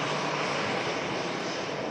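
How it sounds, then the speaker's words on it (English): A business jet departs Manchester Airport bound for Athens, its engines giving a loud, steady roar that fills the whole stretch with no voices. "Just going to quickly capture this bizjet departure for you guys."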